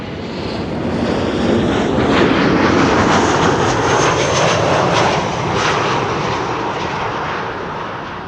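A KLM passenger jet arriving from Porto at Amsterdam Schiphol Airport flies overhead, a loud, steady engine roar that swells and slowly eases as it passes.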